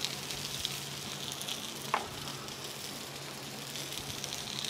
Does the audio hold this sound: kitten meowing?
no